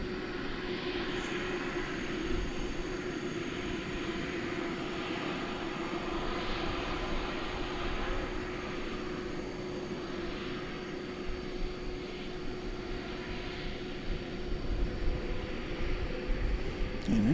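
Jet airliner, flight 732 bound for Doha, at DFW Airport at night, a steady distant engine roar and rumble that holds throughout with slight swells.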